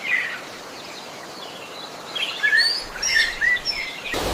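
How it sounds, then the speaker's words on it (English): Several birds chirp and sing in short, bright bursts over a soft background hiss, clustering in the middle with a faint call early on and a brief noise near the end. "Primitive birds sang, filling the void of the dinosaurs."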